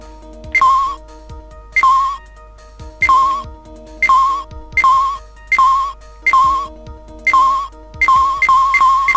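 Cell phone ringtone in the Phoenix Wright: Ace Attorney Justice for All video game, a bright electronic chirping tone repeating in regular short bursts about once a second, loud and clear with no talk.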